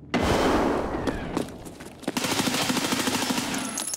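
Automatic gunfire in the video game Escape From Tarkov, rapid close bursts of shots with a brief gap before a second sustained volley.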